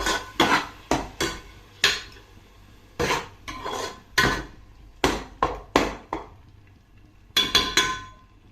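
A spoon stirs and scrapes fish curry masala with tomato paste in a pan, giving repeated clattering metal-on-pan strokes in irregular bursts, close and fairly loud, with no talking.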